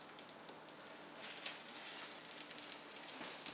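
A western omelette sizzles softly and steadily in a pan just after being flipped, a faint, even crackle with no voices.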